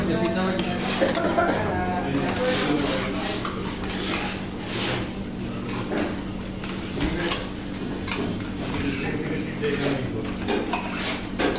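Okra juice with pink salt and chia seeds being stirred, a continuous busy clatter of a spoon against a glass or jug with clinks, close and fairly loud throughout.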